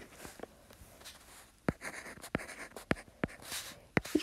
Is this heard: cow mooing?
no